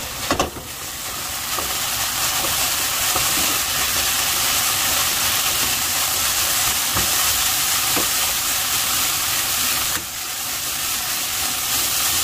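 Yakisoba noodles simmering in plenty of water in a hot pan, a loud continuous sizzle and steamy hiss with faint stirring scrapes, close and steady throughout.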